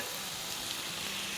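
White vinegar added to a hot pan while cooking Chinese-style chicken bread, producing a steady, even sizzle throughout, soft and continuous with no voices.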